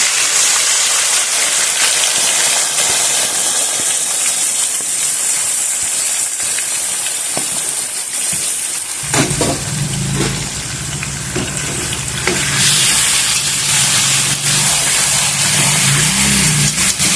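Mutton drops into smoking hot oil for a mutton kosha curry, bringing a loud, sustained hiss and sizzle close by that swells partway through with a deeper bubbling roar and no speech.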